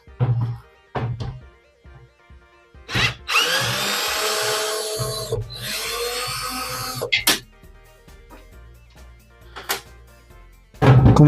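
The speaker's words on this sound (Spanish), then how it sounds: "Entonces vamos a proceder a quitar el tornillo y luego la tuerca." Power drill or driver whirring in two long bursts while removing a screw and nut from a power inverter terminal, with clicks and handling knocks before and after, close and loud.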